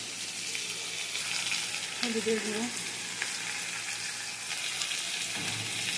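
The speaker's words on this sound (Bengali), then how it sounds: "পেঁয়াজটা ভাজা হয়ে গেছে, এবার আলুটা দিয়ে দিয়েছি। আলুটাও ভাজা হয়ে গেছে" Onion and potato fry in a pan with a steady, close broadband sizzle, and a brief voice murmur sits near the middle.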